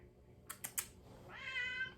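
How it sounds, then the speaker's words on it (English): An old pet cat gives a single drawn-out meow near the microphone, preceded by a few quick clicking taps in an otherwise quiet room. "oh my god, my cat is here."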